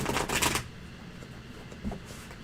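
A quick burst of tarot card shuffling, a dense papery riffle lasting about half a second, then quiet with a faint soft tap or two.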